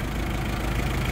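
A Hyundai Porter 2 light truck with a turbo intercooler diesel engine idles, a steady, even low rumble held close and continuous with no other sounds.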